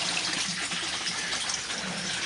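Water pours steadily into a tub through a baby saver filter, a continuous close rushing gush that neither builds nor fades.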